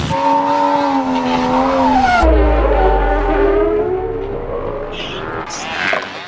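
A car drifting, its engine droning and rising with a long loud tire squeal that swells and then fades, followed by brief faint noises, close and prominent.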